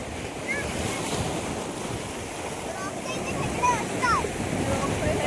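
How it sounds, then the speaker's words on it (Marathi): Sea waves wash onto Khavane beach in Vengurla, a steady roar of surf mixed with wind buffeting the microphone, continuous and fairly loud with a slight swell near the end; no talking. "सुंदर असा ना एक समुद्र किनारा आहे खावणे बीचवरती वेंगुर्ल्यामध्ये"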